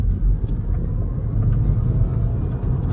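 A 2024 MG4 Lux electric hatchback pulling away hard in sport mode, a loud steady low rumble of road and tyre noise filling the cabin throughout, with no voices over it.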